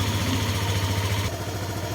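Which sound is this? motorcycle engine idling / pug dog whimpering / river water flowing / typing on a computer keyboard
motorcycle engine idling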